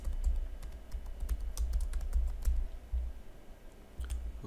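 Fingers tap a password on a computer keyboard, a quick irregular run of crisp keystrokes heard up close and alone, with short pauses between bursts.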